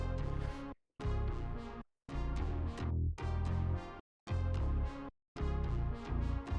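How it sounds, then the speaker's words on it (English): A slow, heavy groove of deep bass and a dragged, lowered sample plays in four-beat phrases separated by short silent gaps. "slowed down version of the original sample,"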